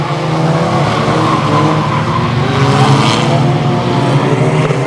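Race cars skidding sideways at Bovingdon Raceway during the Badger Memorial meeting, with a loud, continuous blend of engine roar and tire scrubbing that stays dense and steady throughout.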